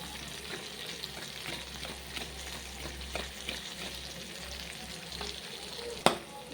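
Chilli chicken frying in a pan with turmeric and chilli powder, a steady close sizzle with occasional stirring scrapes and one sharp clack near the end.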